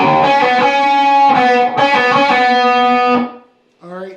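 Distorted electric guitar playing the rhythm part of a song: a short phrase of loud, close, repeated chugging notes with chorus-like effects, fading out near the end before a brief final note.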